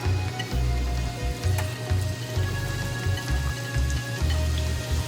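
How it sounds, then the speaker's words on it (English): Onions and peppers dropped into hot olive oil in a pan, a dense crackling sizzle with popping spatters and low thumps, continuous and close, no talking. "olive oil, hot pan. Not hot, but let's stay hot. We're going to go in there with our onions and our peppers."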